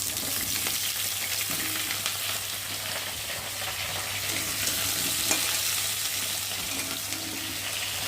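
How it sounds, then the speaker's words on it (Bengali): Potatoes fry in hot oil in a pan, giving a steady, dense sizzle that holds at an even loudness throughout, close up and without voices. "আর এখন আমি আগে আলুগুলো ভেজে নেব।"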